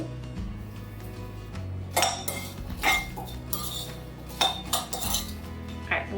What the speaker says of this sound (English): add our sugar into our rhubarb, mix it up